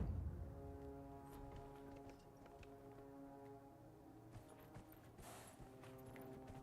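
A horse gallops in Dragon Age: Inquisition, its hoofbeats a steady clip-clop over a layered musical drone, with a brief brighter swell near the end and no voices.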